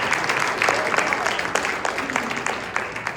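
A church congregation claps in scattered, irregular bursts under a loud, continuous voice, the sharp hand claps rising over the speech.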